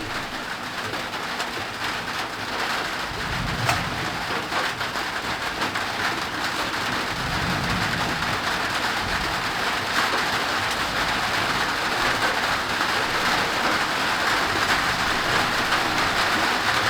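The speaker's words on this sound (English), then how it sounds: "Rain's already starting to pick back up a little bit." Heavy tropical rain pours steadily during a July storm in Ohio, a dense, continuous hiss of drops hitting surfaces nearby, loud and unbroken, with faint bird calls underneath.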